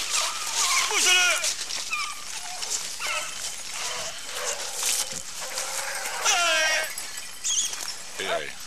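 Hunting dogs yelp and bark in excited bursts while chasing rabbits in the scrubland around Vitrolles, with hunters shouting and talking loudly over the pack throughout.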